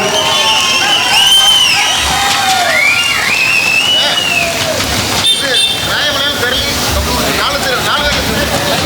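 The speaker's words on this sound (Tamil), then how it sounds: "இளைஞர்கள் மிகுந்த கரகோஷங்களை எடுக்குமாறு உங்களை கேட்டுக்கொள்கிறோம்" A large crowd at an outdoor political rally claps and cheers, a loud continuous wash of applause with whistles and shouts rising over it, while someone speaks through amplification.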